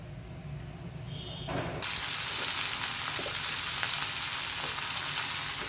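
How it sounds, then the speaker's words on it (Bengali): Onion, bay leaf and green chili hit hot oil with a sudden loud sizzle that settles into a steady, close frying hiss with faint stirring scrapes. "ওই তেলের মধ্যে আমি পেঁয়াজ তেজপাতা কাঁচামরিচ সবই দিয়ে আগে সুন্দর করে ভেজে নেব"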